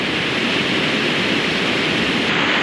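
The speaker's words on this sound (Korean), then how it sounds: "이 시원한 물소리를 들으니까 아주 가슴이 뻥" Mountain stream water rushing along the Haeinsa Sori-gil trail at Gayasan National Park, a steady, loud, broadband flowing roar close by, continuous for the whole stretch with no voices.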